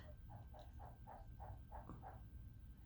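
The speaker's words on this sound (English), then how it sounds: "sorry if you hear my frogs are croaking." Frogs croak in a steady series of about eight short, evenly spaced calls over a low background hum, fairly faint and without any talk.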